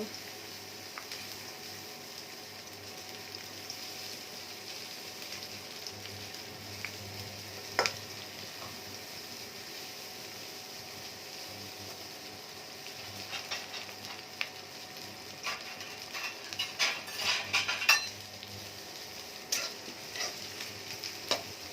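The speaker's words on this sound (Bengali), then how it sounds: "পেঁয়াজটা একটু ভাজা ভাজা হয়ে যাক।" Onions frying in mustard oil while goat tripe is being cooked, a faint steady sizzle with scattered stirring scrapes and clicks that grow busier toward the end, no voices.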